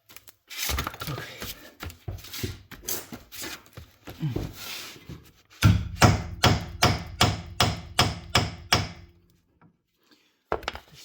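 A steady run of sharp hammer blows on metal rings out while removing a Mini Cooper R56 rear subframe, about a dozen evenly spaced strikes, preceded by shuffling and handling noises, with one more hit at the end.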